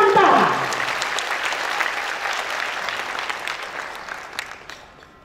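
Audience applause fills a concert hall at an orchestral performance of Nusantara-themed music, a dense sustained clatter of many hands that starts loud with a few cheers and gradually tapers off over about five seconds.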